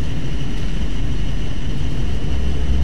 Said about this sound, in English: The airplane's gonna take us to the other side.